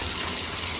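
Water gushes steadily from a Gerber shower valve under test, a continuous close, loud splashing flow with no pause.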